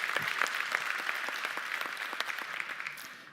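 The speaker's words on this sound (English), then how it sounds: "Big applause." Audience at the final of a sommelier competition applauding a prize-winning sommelier, a soft, fairly distant patter of many hands with scattered distinct claps that gradually fades toward the end.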